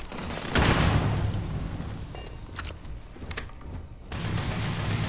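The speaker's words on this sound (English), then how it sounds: "Guys, can you stop shooting?" Bursts of gunfire in the Starfield game, a dense loud volley at the start followed by scattered sharp shots, then a brief lull before heavy firing resumes.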